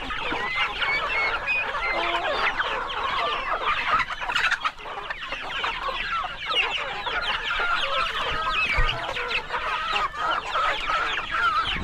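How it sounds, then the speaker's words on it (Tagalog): Chickens on a Philippine farm cluck and call steadily, a dense, close flock chatter that carries through the whole stretch with no talk over it. "Ngayon po, magkatay tayo ng manok."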